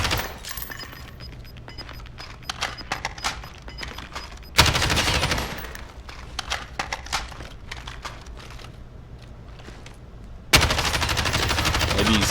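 Rapid automatic gunfire in the video game Warzone, someone firing a weapon to test its recoil, loud bursts of dense shots broken by short pauses and two heavier blasts.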